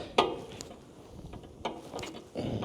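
Sharp clicks and clanks of a 7/8 wrench working loose the 1/2-inch air hose fitting on a service truck's air compressor, a few scattered metallic ticks and a scrape heard up close with quiet gaps between.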